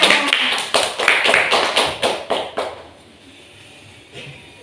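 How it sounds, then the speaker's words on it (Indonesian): Classroom of children clapping on cue during a teaching simulation about the human digestive system, a run of about ten sharp, close claps in a loose rhythm that stops abruptly, followed by a quiet room and one faint late clap. "Ya, tepuk tangan semuanya."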